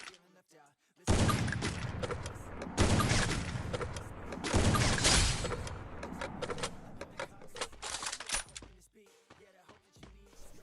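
Rapid bursts of gunfire from the Free Fire battle royale game, loud and dense clusters of shots with brief gaps, running for most of the stretch before easing off into scattered quieter pops near the end.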